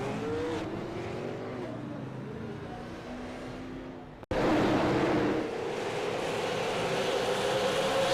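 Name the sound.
race car wreck on the front stretch, iRacing video game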